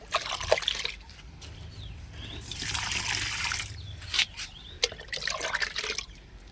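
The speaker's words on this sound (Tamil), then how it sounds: "அதை ஒவ்வொரு மக்கு ஊற்றி விட்டுறலாம்." Moringa leaf solution being poured from a mug onto garden plants, a close, splashing trickle of liquid that swells and breaks off in uneven bursts.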